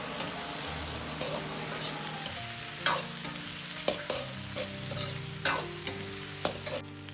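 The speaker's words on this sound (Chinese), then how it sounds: "接着加入控干水分的香料，继续翻炒，炒出香料里边多余的水分" Drained spices are stir-fried in a hot wok for Sichuan-style red-braised pork, giving a continuous close sizzle broken by periodic sharp scraping strokes of the spatula.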